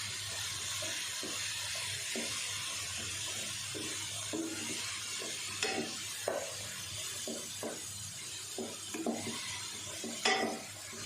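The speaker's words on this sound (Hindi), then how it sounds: "ये साथ डाल देते हैं और इसकी अच्छे से एक दफ़ा भुनाई कर लेते हैं।" Grated pumpkin being sautéed in a pan for halwa, a low constant sizzle broken by a spoon scraping and stirring, with repeated soft knocks and scrapes growing a little louder toward the end, without speech.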